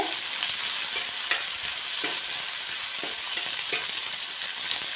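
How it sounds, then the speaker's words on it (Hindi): Cumin and mustard seeds crackling in hot oil, a loud, dense sizzle with sharp pops scattered throughout, close up and without any speech. "जीरा राय वगैरह टटक गया है"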